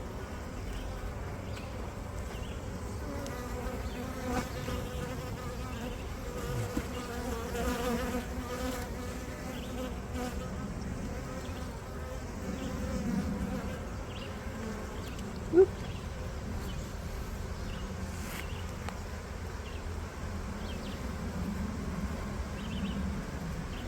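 Honeybees buzz steadily around an opened beehive during an inspection with capped brood frames, a continuous close droning hum with one brief sharp knock partway through.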